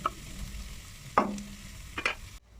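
Cashews fry with onions in a pan, giving a soft sizzle close by. A few sharp spoon scrapes and stirs break through it before the sound stops abruptly.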